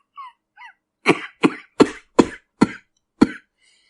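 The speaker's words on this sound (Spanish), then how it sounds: "comenzó a toser violentamente" Six hard coughs in a quick, uneven burst, loud and close, each one harsh and rasping, preceded by a couple of faint high squeaks.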